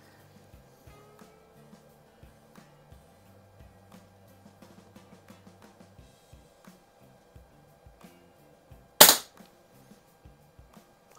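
A single sharp, loud shot from an Umarex Ruger Mark 4 air pistol rings out near the end, preceded by quiet ticking and faint handling noise.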